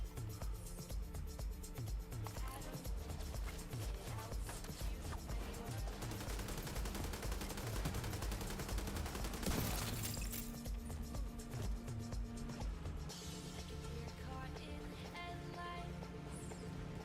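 Sustained automatic gunfire from a ceiling-aimed weapon in The Division 2, rapid dense bursts rolling continuously with a sharper crash near the middle, loud and up close.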